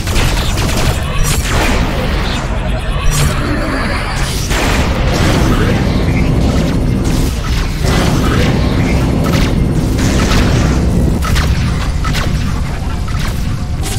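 Spaceship broadside cannons in Galaxy Rebels blast in dense, overlapping booms, loud and continuous, with sharp bursts layered over a heavy rumbling roar.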